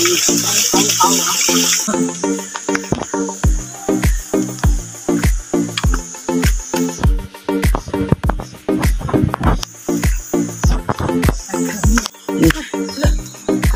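Water runs and drips from a tap in a resort setting, with sharp repeated drip impacts and splashes in an irregular rhythm over a faint hiss of flow, close and fairly loud.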